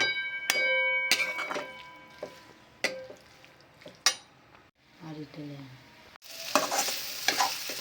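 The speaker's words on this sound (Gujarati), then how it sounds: "ધીમી ગેસની આંચ પર હળદરને ઘીમાં શેકવાની છે" Fresh turmeric roasting in ghee over a low flame, stirred in a pan: soft frying sizzle under intermittent sharp clinks of a utensil against the pan, with a louder hiss rising near the end.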